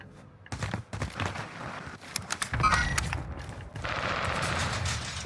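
Gunfire in Call of Duty Warzone on Rebirth Island: loud, close bursts of shots in quick clusters, with rapid crackling volleys over a busy game soundscape.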